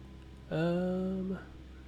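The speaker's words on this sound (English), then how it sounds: "meowing in the background." A cat meows once in the background, a single drawn-out, fairly even-pitched call lasting nearly a second against a quiet room.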